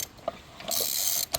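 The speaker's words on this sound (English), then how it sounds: "just tighten the crank a little bit" Ratchet wrench clicking as it tightens the crankshaft of a 23 hp Briggs & Stratton Intek engine: a few sharp close clicks followed by a sustained rasping ratchet sweep, with no talk.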